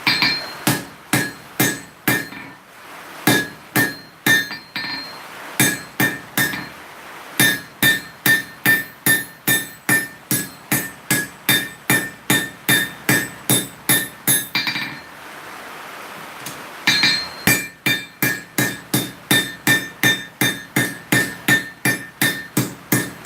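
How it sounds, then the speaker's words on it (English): Hammer forging a hot piece of coil spring on an anvil, loud close ringing metallic blows in quick steady runs, with a short pause mid-way before the rhythmic striking resumes. "I'll use the heat that I've got in it to just straighten out this piece of coil spring a little bit more"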